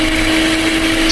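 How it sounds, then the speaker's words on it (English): An electric blender whirring as it blends fried spices with a little water for mutton paya soup, a loud steady motor whine with a constant tone that holds throughout. "Put fried spices into blender."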